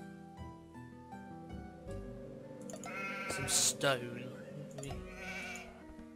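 A sheep bleats repeatedly in Age of Empires II HD, loud wavering cries over game music while a person talks briefly.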